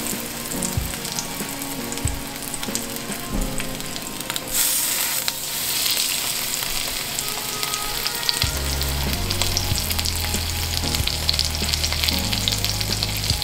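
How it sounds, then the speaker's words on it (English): Blackened salmon fillets fry in a pan with a loud, steady sizzle and crackle, with occasional stirring or shifting sounds and no talking. "Perfect sizzle."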